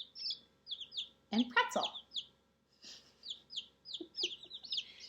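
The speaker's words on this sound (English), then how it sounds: "There's even more chirping because there's still chicks in the incubator too." Newly hatched fluffy chicks peep in quick, high repeated chirps throughout, some clustered in bursts, with a person briefly speaking in the middle.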